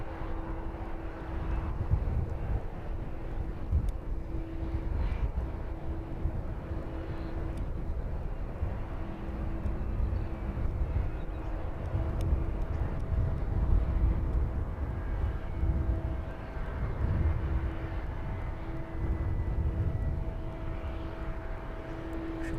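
A Spitfire flies past at an airport, its piston engine a fairly faint, sustained drone with a steady tonal hum that swells and eases gently over about twenty seconds, with no voices.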